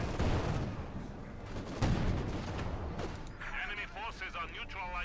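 Battle gunfire and artillery in Company of Heroes 2, a Wehrmacht versus Soviet match, with booming shots and rattling fire running steadily throughout, under a narrator's commentary.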